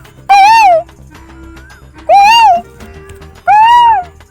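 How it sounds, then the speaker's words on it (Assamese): An Asian koel calls from a large tree, three loud rising-falling whistled notes spaced about a second and a half apart, clear and close over a quiet low background. "কুলি চিঞৰিছে"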